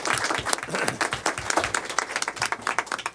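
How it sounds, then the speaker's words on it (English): A room full of people at a board of trustees meeting applauds, a dense burst of clapping that stays fairly loud and steady throughout. "a round of applause for the Chancellor"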